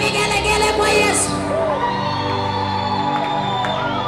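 A church congregation at a revival gathering cheers and ululates together, a loud sustained crowd roar with high trilling whoops on top from start to finish.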